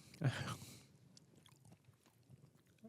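Chewing on peanut butter-filled pretzels, with one crunchy bite near the start and then quieter, softer mastication sounds up close, with no talking.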